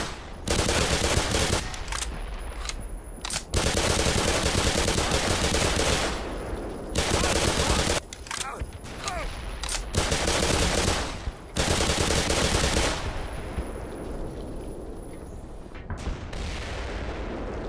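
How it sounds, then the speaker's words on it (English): Bursts of rapid automatic gunfire and heavy shots in the Black Mesa video game, loud and near, coming in repeated volleys separated by short pauses across the whole stretch. "Something is shooting."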